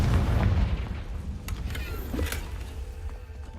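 A Confringo explosion spell goes off in Hogwarts Legacy: a deep booming blast at the start that rumbles and decays, followed by a few sharp crackles and a faint lingering tail.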